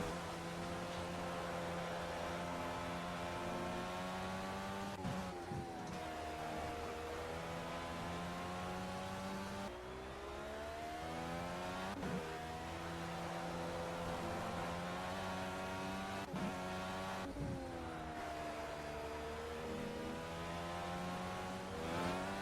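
IndyCar engine heard through the corners at Laguna Seca, a steady high-pitched on-board whine that dips and climbs again with each gear change and braking point, continuous and fairly close, with no talking.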